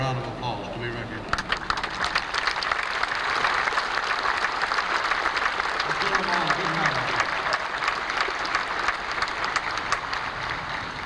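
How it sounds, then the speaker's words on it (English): Sailors of a destroyer escort association and their auxiliary members are honoured at an outdoor naval memorial ceremony with a crowd's long, even applause that swells after a brief quiet start, with faint voices and some low background rumble beneath. "Will the Destroyer Escort Sailors Association Board of Directors and auxiliary members now please stand for a round of applause to be recognized"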